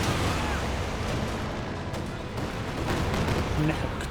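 An artillery barrage in Company of Heroes 2 rumbles in a dense, continuous roar of distant blasts and gunfire, with a commentator talking steadily over the battle noise.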